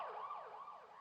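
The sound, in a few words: ambulance siren with Doppler effect pitch change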